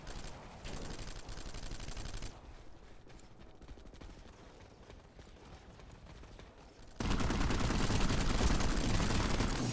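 Automatic gunfire from infantry weapons in the video game PlanetSide 2, dense bursts that ease off into a quieter stretch mid-clip before loud, sustained firing resumes, with no talk.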